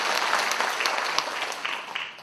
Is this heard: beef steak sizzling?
no